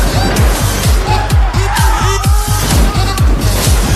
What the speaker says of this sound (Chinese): 拉玛继续开车神龙摆尾